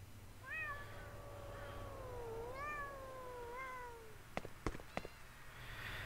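A cat in the video game Thirty Flights of Loving gives several drawn-out, rising and falling meows in a row, fairly clear against a quiet hum, followed by a few sharp clicks.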